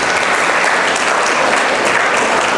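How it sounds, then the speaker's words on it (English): A crowd applauds young musicians who played flute and drums at a history lesson with students, producing a thick, even wash of clapping, loud and close, with no pauses across the short stretch. "give those youngsters a big applause for me that play that music"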